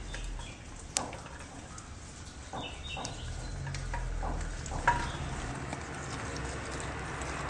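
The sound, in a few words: ground moong dal stirred and frying in ghee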